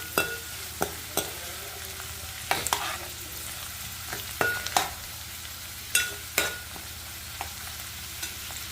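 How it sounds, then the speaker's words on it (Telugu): Onions and ivy gourd fry in a pan, giving a steady sizzle broken by scattered louder clinks and scrapes of stirring, close and alone with no talk. "చూడండి కొంచెం ఉల్లిపాయలు కూడా కొంచెం వేగింది కదండి. ఇప్పుడు దొండకాయలు కూడా వేసేసుకున్నామండి."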